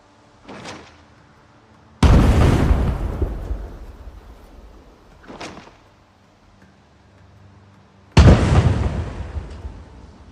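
Two heavy grenade blasts go off in Project Zomboid, each a sudden loud boom with a long rumbling decay, with fainter thuds in between and no talking.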